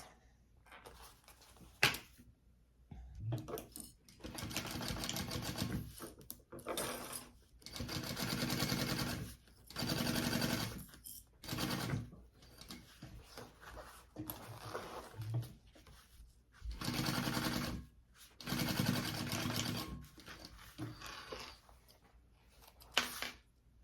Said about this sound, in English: And then I'm gonna sew that at my full seam allowance.